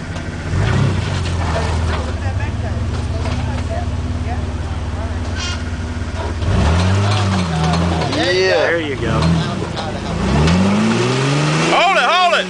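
A Jeep TJ rock crawler's engine holds a steady drone, then revs up and down in repeated surges, loud and close, while voices talk and call out throughout.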